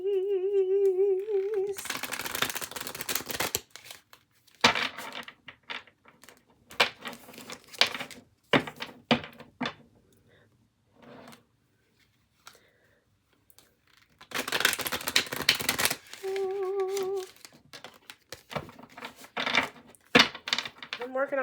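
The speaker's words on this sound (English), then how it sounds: "I'm working on my shuffling though." Tarot cards, some oddly shaped, being shuffled in bursts of riffling and flicking, close and fairly loud, with quieter handling sounds and pauses between shuffles.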